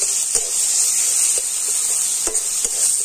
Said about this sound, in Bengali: আমটাও কিন্তু তেলের সাথে একটু ভেজে নেব